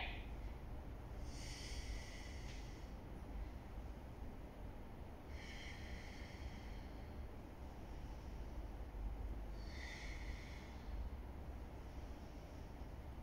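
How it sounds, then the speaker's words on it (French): Slow ujjayi breathing during an autumn yoga flow: three long, hissing breath cycles come in soft, steady intervals over a constant low background hiss. "On respire Ujjayi toujours."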